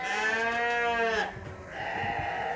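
A sheep or lamb on a farm bleats loudly and close by in one long wavering call, and softer farm-animal sounds follow.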